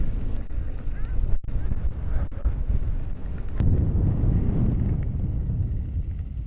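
Wind buffets the microphone in a deer park near Copenhagen during an electric unicycle ride, a loud continuous roaring rush that swells and dips, with a voice talking faintly underneath.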